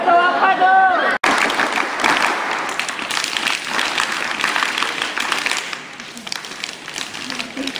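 A group at a scout camp claps and applauds together, a burst of hand claps following brief talk, the sustained noisy clapping tapering toward the end.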